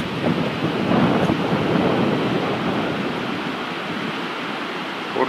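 River water rushes into a whirlpool just below a waterfall, a loud, close, continuous roar of broadband turbulent flow that stays steady and dense from start to finish.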